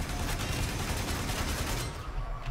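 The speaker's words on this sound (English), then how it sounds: "Killed him by shooting up above." Sustained rapid gunfire in Warframe rattles loudly and continuously for a couple of seconds, then cuts off, with no voices.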